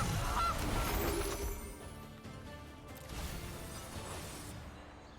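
A goose honk sound effect from the Gilded Goose card in the Magic: The Gathering Arena video game, a short honk up front over busy game audio that then fades to quieter music.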